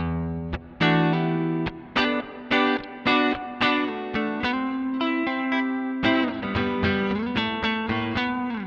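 Electric guitar notes and chords played one after another through a Koch 63' OD all-tube overdrive/preamp pedal on its clean setting, slightly crunchy overdriven tone with ringing sustain and a touch of reverb, no talking.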